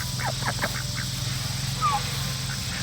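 Ducks in a garden quack in a quick burst of several calls early on, fairly close, followed by a quieter call later, over a steady low background hum.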